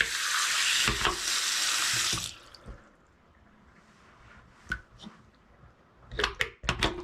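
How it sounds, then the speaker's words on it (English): A bathroom sink tap runs in a steady hiss for about two seconds and then shuts off, followed by scattered clinks and drips at a clogged drain. "And turn on some water."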